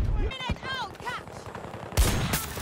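Gunfire in Battlefield 2042 under chirpy game sounds, ending in a loud burst of rapid shots with an echoing tail.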